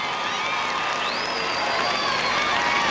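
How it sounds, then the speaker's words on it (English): A football crowd at a 1991 Mendon versus Lake Linden high school game cheers and shouts as Mendon takes the field, a broad continuous roar with scattered whistles and yells and no clear talk. "You can hear the cheer from the Mendon crowd"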